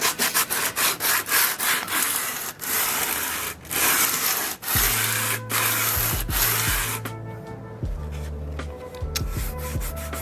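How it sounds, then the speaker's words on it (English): Rhythmic abrasive strokes of hand sanding a BMW car bumper rasp back and forth up close, then give way to a smoother, steadier scraping with low thuds. "It's been about 20 minutes of sanding."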